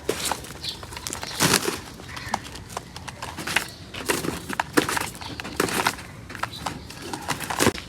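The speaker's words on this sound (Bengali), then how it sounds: "এই যে এই কবুতরটা আসছে" Bursts of pigeon wing flapping come and go in quick clusters, mixed with scuffling and faint rustles nearby.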